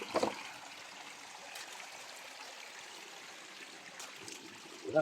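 A clear natural stream flowing through a forest setting gives a soft, continuous trickle and wash, faint and steady, with a couple of brief louder splashes at the start and the end.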